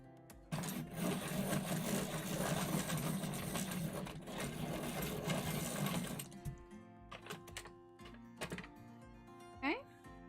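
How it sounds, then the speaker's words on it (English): Colored pencils being sharpened in a mechanical pencil sharpener, a loud continuous grinding buzz for about six seconds, then stopping, followed by scattered light knocks and clicks. "Give these a quick sharpen."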